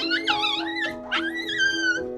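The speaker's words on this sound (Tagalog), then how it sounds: "O, border collie." A border collie whines and yelps in a run of rising and falling high-pitched whimpers, close and fairly loud, with brief pauses between cries and no talking.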